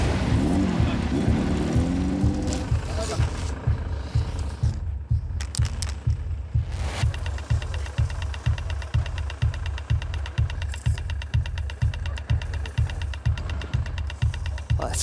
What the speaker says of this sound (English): these babies are loaded up with some seriously tweaked-out engines